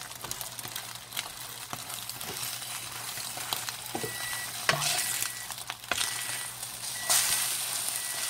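Korean-style Vienna sausages fry on high heat with a continuous crackling sizzle, punctuated by scattered pops and utensil scrapes, fairly close and steady.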